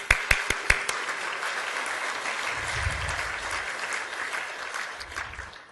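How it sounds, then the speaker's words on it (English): Applause from an audience, a few sharp claps at first swelling into steady, sustained clapping that slowly fades toward the end. "That deserves a round of applause."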